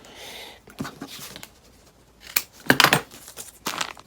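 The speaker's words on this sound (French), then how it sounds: "je vais être obligé de couper délicatement ceci. Ah, c'est les ciseaux." Several crisp snips and crinkly cutting sounds from scissors working through board game packaging, close by, in irregular bursts with short pauses between.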